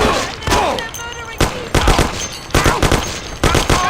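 Rapid bursts of gunfire in the video game Mafia, loud and close, coming in several separate volleys with brief gaps, with shouted voices mixed in among the shots.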